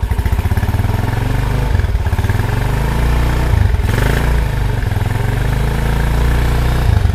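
A Honda GL100 motorcycle fitted with a Tiger engine idling close by: a loud, steady, throbbing exhaust putter with a slight mechanical clatter and small rises in revs, and no speech.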